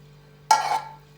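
A brief burst of stirring a cocoa mixture into boiling milk in a pot on a gas stove turned to minimum, with a soft sizzle, lasting under a second, after quiet with a steady low hum.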